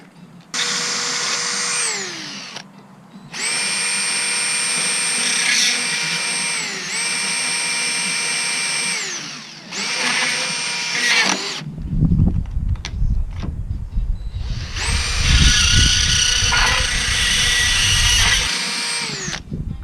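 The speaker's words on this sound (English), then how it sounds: "we're going to take a grinder and smooth those edges up" A power grinder smooths the rough metal edges of a Dometic electric RV awning in several loud, sustained whining bursts with short pauses between them, and grinding noise continues near the end.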